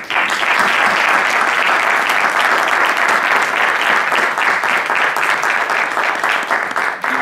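A lecture audience gives a strong round of applause to the speaker before a talk on how to look at a painting, dense, even clapping that stays loud throughout and begins to thin near the end.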